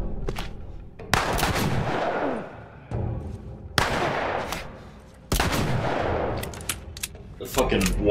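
Gunfire from The Last of Us video game, a handful of loud booming shotgun-like blasts spaced a second or two apart, each with a long decaying tail, with a player's voice heard between shots.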